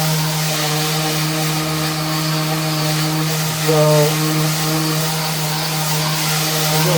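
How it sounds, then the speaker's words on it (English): A power sander sands paint off a CNC-carved photo, running as a loud, steady motor drone with a continuous abrasive hiss, one brief change in pitch near the middle, and a person speaking briefly over it. "I apologize for the noise of the sander"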